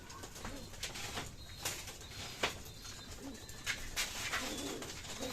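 Pigeons in a loft coo softly at a distance against a busy background, with bursts of flapping wings and shuffling, and a few brief clatters scattered through.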